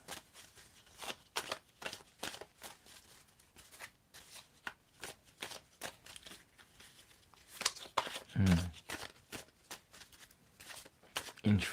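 A deck of spirit reading cards is shuffled in rapid papery riffles and flicks that keep going close by and fairly quietly, with a few louder bumps near the end.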